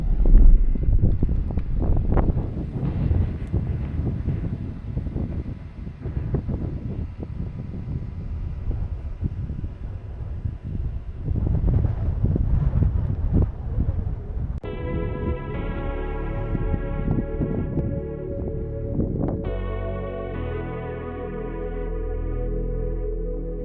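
A hot, breezy wind blows on Mount Lemmon, Arizona, buffeting the microphone with uneven rumbling gusts for about fifteen seconds before music takes over.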